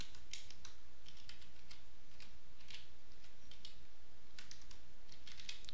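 Quiet, irregular clicks of a computer keyboard being typed on, short bursts of keystrokes close to the microphone with no voices.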